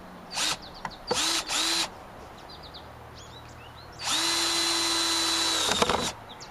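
A power drill pre-drills wood on a house rebuild, with short whirring bursts near the start, then a longer sustained run of several seconds after a pause, loud and close.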